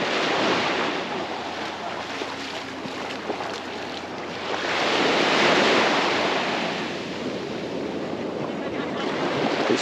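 Ocean waves washing onto Jolly Beach on a hot day: a continuous broad rush of surf that swells in the middle, with some wind noise over the microphone and no talking.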